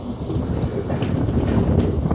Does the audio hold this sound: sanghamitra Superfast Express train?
yes